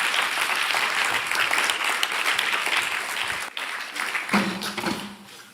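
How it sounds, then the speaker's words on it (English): Warm applause from a conference audience welcoming panelists onto a stage, dense steady clapping throughout that thins briefly and dips near the end. "Warm applause."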